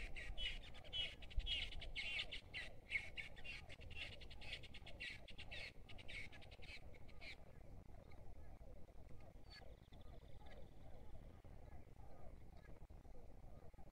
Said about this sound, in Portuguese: Olha só os sapos, como é que eles, que eles cantam à noite